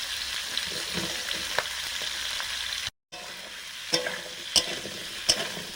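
Beans, new potatoes, kohlrabi and spring onions frying in a pan, a steady close sizzle with occasional sharp taps and clinks of a utensil, broken by a brief gap of silence, with no talking.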